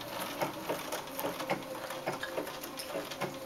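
A Bernina sewing machine stitches a wedding quilt, giving a steady, moderately quiet run of rapid needle clicks and mechanical patter with no talk.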